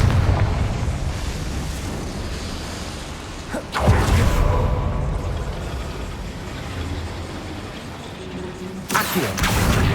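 Confringo fire spell blasts in Hogwarts Legacy, a loud rumbling explosion near the start followed by a second burst around four seconds and another near the end, with a continuous roaring low-end wash between them.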